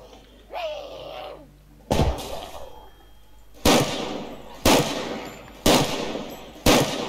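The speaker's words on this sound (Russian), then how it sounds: "Вот я в взрывмейстера сейчас стреляю" Gunfire in The Last Stand: Aftermath aimed at an exploder zombie: about five loud, sharp shots spaced roughly a second apart, following a brief stretch of voice and quieter game ambience.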